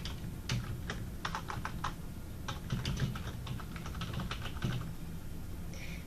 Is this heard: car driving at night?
no